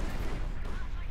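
A heavy artillery piece fires in the WWII strategy game Company of Heroes 2, a dense, loud battlefield rumble with low booming weight filling the whole moment, talk faintly mixed underneath.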